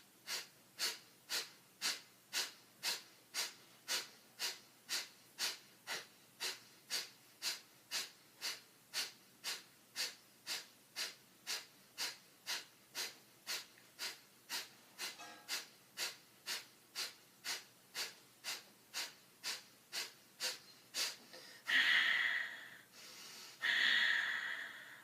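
Rapid yoga breathing, about 45 sharp, forceful nasal exhales at an even pace of roughly two per second, close and distinct, ending in a couple of long, deep breaths.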